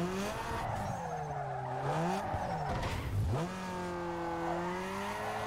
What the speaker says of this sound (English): It was a shit attempt at a burnout.